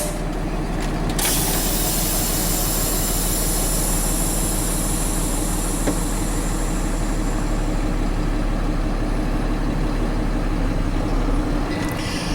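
A tractor-trailer rig sits running during a trailer brake test, its engine droning at a steady, loud idle with a hiss of air near the start and end.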